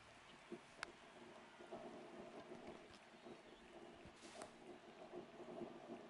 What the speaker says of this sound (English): Oh, it's going to rain. Or it's raining.